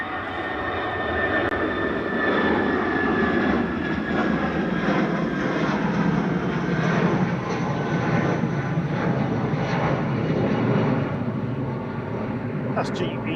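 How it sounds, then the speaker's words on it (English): A British Airways Airbus A319 departs Manchester Airport for Heathrow, a broad jet roar swelling and holding steady at middle distance before easing slightly, with an occasional voice faintly underneath. "That's GEUOF departing down to Heathrow in A319 with flight 1407 for British Airways"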